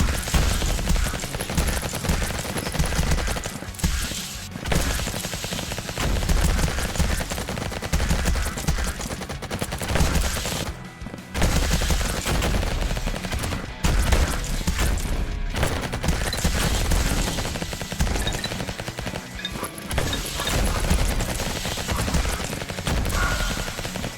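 Dense bursts of rapid gunfire and explosions from the game Vampire Hunters, nearly continuous and loud, with brief pauses between volleys.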